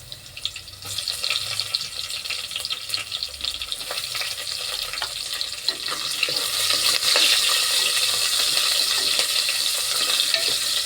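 Chilies dropped into hot frying oil sizzle steadily, a dense bright hiss that swells louder partway through, with faint stirring and clinking underneath and no talking.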